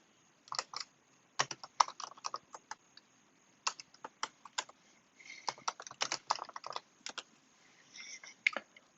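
Quick bursts of typing on a computer keyboard as terminal commands are entered, crisp close-up key clicks in irregular clusters separated by short pauses, with no voices.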